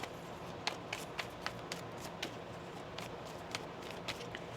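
Tarot cards being shuffled during a reading, heard as a quiet, irregular run of soft taps and riffling flicks close to the microphone, with no talking.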